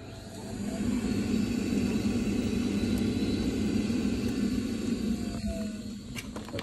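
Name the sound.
Vaillant ecotec boiler pump running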